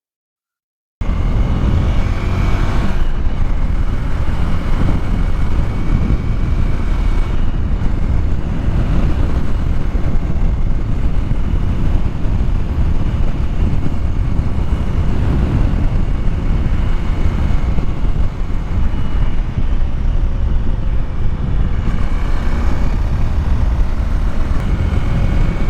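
A Honda Rebel 300 motorcycle rides along with a continuous loud engine drone and heavy wind rush, steady and close throughout with no talk.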